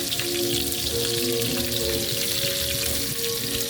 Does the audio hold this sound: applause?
no